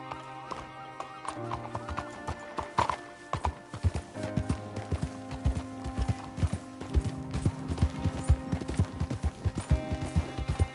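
Horse hooves in the video game Red Dead Redemption clip-clop in a steady trotting rhythm over a low musical drone, with a brief whinny early on.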